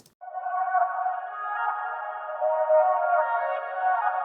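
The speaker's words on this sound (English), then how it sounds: "It's going to make it sound like this is underwater." A sustained, muffled guitar tone with a watery, washed-out filter, droning steadily and fairly loud with no voices.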